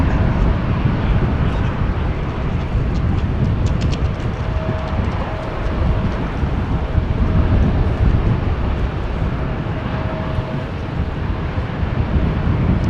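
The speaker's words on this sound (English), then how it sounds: "Transavia flight 5821 to Bari, 737-800 PHHXJ, 7 years old, first flight April 2017" A seven-year-old Transavia Boeing 737-800 airliner at Amsterdam Schiphol Airport, a loud, continuous jet engine roar with a faint steady whine, buffeted by some wind noise and lasting throughout.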